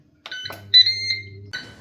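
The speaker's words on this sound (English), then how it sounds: "And we've beeped." A Ninja Speedi air fryer beeps when cooking finishes: a few short, bright electronic tones, close and clear, with a low hum underneath.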